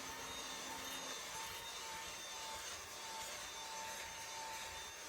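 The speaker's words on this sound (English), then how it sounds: "He loves getting vacuumed, and I use the back scratcher to kind of distract him from the vacuum." A vacuum cleaner run over a dog inside a camper van, a steady whining motor with high tonal hums and faint rubbing of the nozzle through fur, fairly quiet and continuous, without speech.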